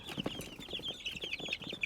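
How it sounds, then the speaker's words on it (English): Baby chicks chirp and cluck in a busy, overlapping chorus of high, rapid peeps, close and continuous, with soft rustling below. "Oh, you guys are crazy birds."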